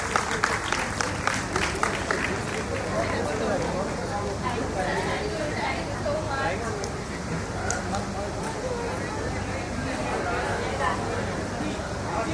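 Loud, dense audience applause at a temple award ceremony, steady sustained clapping with crowd murmur mixed in, continuing throughout.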